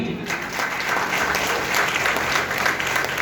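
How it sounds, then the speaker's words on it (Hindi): Loud, steady applause from a seated crowd at a Safe Shop business meeting, continuous clapping throughout with a faint voice beneath. "मैं चाहूंगा सेफ शॉप के लिए भी जोरदार ताली होना चाहिए"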